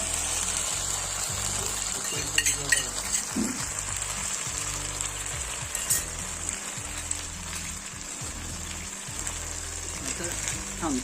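Homemade sauce poured over lolga fish frying in a pan, giving a steady hissing sizzle with bubbling underneath, while someone talks over the cooking.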